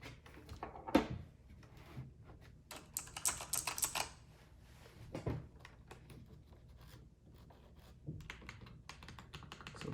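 Keystrokes on a Razer Huntsman Elite mechanical keyboard, heard as scattered clicks and short bursts of rapid typing at close range, with quiet pauses between runs.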